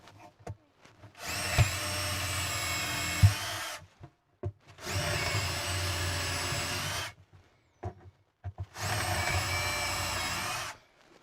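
A power drill bores three separate holes into wood in a workshop, each a sustained whirring burst of a couple of seconds, separated by short quiet gaps with small handling clicks and knocks.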